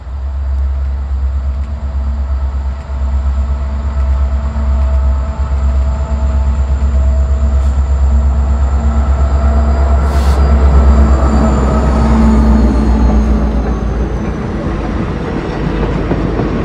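A train runs slowly along railroad tracks on the Amtrak line at about 25 mph, a loud, heavy, steady rumble and low drone close by with faint wheel squeals and clicks, no voices.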